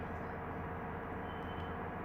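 A faint, steady low rumble of a bullet train rolling past in the video game Bus Simulator Indonesia, continuous and even throughout with no other sounds.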